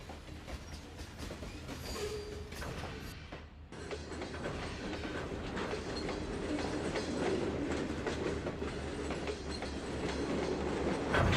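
A train with a Canadian potash hopper rolls along the rails in Trainz 2022, giving a steady clickety-clack and rumble that grows gradually louder, with a brief dip in the noise early on.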